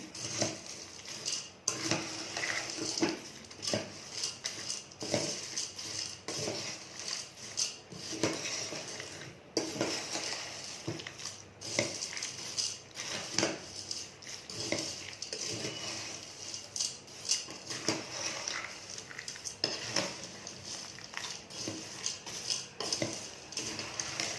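Spoon clattering and scraping in a pan while stirring a salted bottle gourd (anapakaya) mixture, repeated irregular metallic clinks and scrapes, close and fairly quiet.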